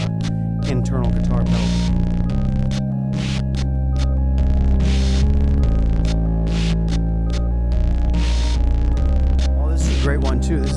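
Electric guitar feedback comes from a homemade freeze pedal built into the guitar, sustained droning tones that hold and shift pitch in steps, broken by sharp clicks and bursts of noise, with a low hum underneath.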